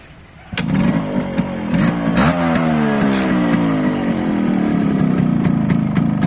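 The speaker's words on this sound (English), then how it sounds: "Bike sounds totally amazing, and it has just been restored" A freshly restored motorcycle engine starts up loud and close, then revs up and down with rising and falling pitch before settling into a rough, steady idle.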